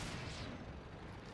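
Incoming shell fire striking a tank in World of Tanks: a dense, continuous rumbling barrage of booms and blasts, loud and sustained with no clear separate hits.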